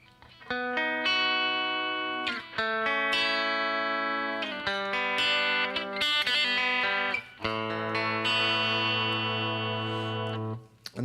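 Clean electric guitar through a Boss CE-2 chorus in the Peter T 80s clean setting, playing shimmering arpeggiated chords and single notes with gentle modulation, close and steady, with no talking.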